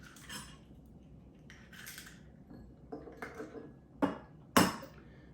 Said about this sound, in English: I'm gonna crack these eggs and just beat them up in here